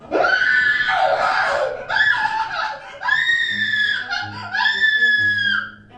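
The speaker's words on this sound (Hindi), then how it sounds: "14 अप्रैल 2008 की रात एक घर से एक लड़की के चिल्लाने की आवाज आती है।" A young girl screams in a dramatized night scene, several long, loud, shrill wails that rise and break off in separate bursts, heard alone with no talk.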